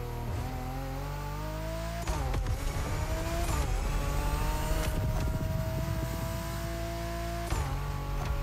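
A steady, revving engine drone from an Infiniti Q60 Project Black S concept car in The Crew Motorfest, held at high pitch with a few sharp gear-shift breaks and surges, heard close and continuous with no talk.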